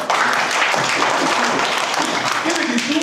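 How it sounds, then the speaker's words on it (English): Dense, loud clapping from a group of trainees at a school-based teacher training session, steady and continuous throughout, with some voices mixed in. "Clap for Bamboo"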